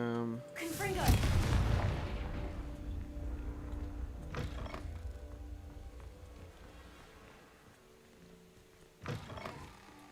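Confringo fire spell from Hogwarts Legacy going off as a loud booming blast that rumbles and fades over several seconds, followed by a fainter second impact near the end.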